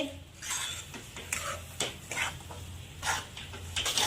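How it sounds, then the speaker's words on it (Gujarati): Sheera for a Satyanarayan prasad being roasted in a pan, with a spoon scraping and clinking against the metal in irregular strokes over a low steady hum, close and moderately quiet. "હવે જો આને આપણે સરસનો શેકી લેવાનો છે"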